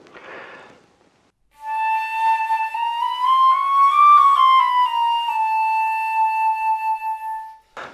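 A flute plays a harmonic warm-up exercise with good tone: one long, clear, sustained note that bends slightly upward in the middle and settles back, close and steady for about six seconds, preceded by a brief breath.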